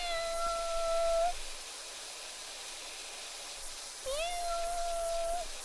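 A pet cat meows twice, each call a drawn-out, rising and then level tone, the two separated by a few seconds of quiet room noise. The cat sounds fairly close and there is no talking.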